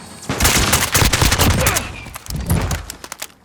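Rapid automatic gunfire from a high fire-rate weapon in Call of Duty: Modern Warfare, loud dense bursts with a brief lull before another close volley, with no voices.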